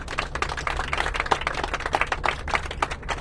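A scattered round of applause from a group, many hands clapping irregularly at a moderate, somewhat distant level.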